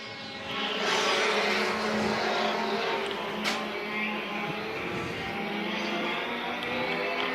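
Race cars roar around the track during a championship feature event at the National 100 weekend, a dense, continuous engine drone from a pack of cars that holds loud and steady throughout.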